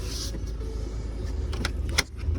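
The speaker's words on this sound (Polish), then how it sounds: "Bagażnik otwiera się dwuczłonowo, górna i dolna część klapy osobno." Split two-part tailgate of a 2007 Mitsubishi Outlander 2.0 4x4 opening: a low idle-like hum under a few light mechanical clicks and rattles, then a sharp latch clack near the end.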